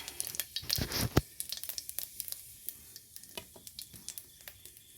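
Panch phoron spices crackle and sizzle in hot oil in a pan, a run of sharp pops and fizzes, strongest early and then thinning into scattered crackles, quiet and close with no talking.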